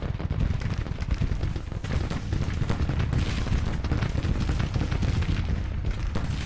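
Civil War artillery and gunfire in Grand Tactician: The Civil War at Petersburg, with 3-inch rifles and 20-pounder Parrott guns firing. A constant rumbling barrage of booms and crackling shots fills the battlefield without letting up.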